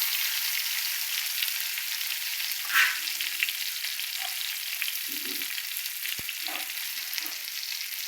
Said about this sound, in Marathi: अशी अख्खी भेंडी फ्राय करायची आपल्याला.